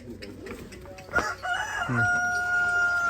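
A rooster crows loudly nearby, a long drawn-out call that rings on until the end after a few brief clucks.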